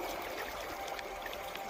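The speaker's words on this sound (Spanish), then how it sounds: "Escucha el suave murmullo del río en el fondo" A river murmurs softly in the background of a calm outdoor scene, a faint, steady trickling flow with no other sounds.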